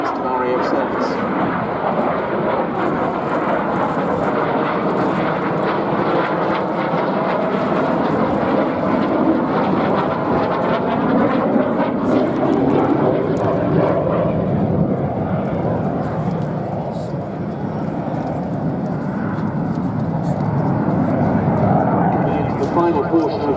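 A Jet Provost jet trainer in RAF display colours flies an airshow routine at Duxford, its engine roar a steady, loud wash throughout, with a commentator's voice running over it.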